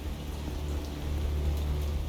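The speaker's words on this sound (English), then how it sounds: "And it's raining" Rain falling in the naval warfare game War On The Sea, a steady patter over a low, continuous rumble, with no voices over it.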